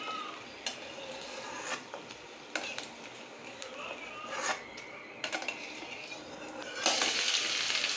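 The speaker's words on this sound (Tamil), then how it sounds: "பிரண்டியை வந்து நல்லா எண்ணெயில் வதக்கி எடுத்துக்கணும்" Pirandai (adamant creeper) sautés in oil in a pan, a soft sizzle broken by scattered clinks and scrapes of a utensil against the pan, with a louder sizzling surge near the end.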